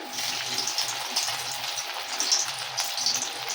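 Mourala fish chops frying in mustard oil, a steady close crackling sizzle with fine bubbling pops that continues evenly throughout without any talk.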